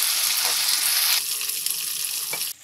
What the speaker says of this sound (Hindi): अभी इसे अच्छे से फ्राई कर लें।